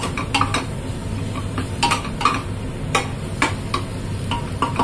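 Bottle gourd sabzi being stirred in a pan, with a spoon scraping and clinking against the metal in irregular light knocks over a soft background hiss; no one speaks.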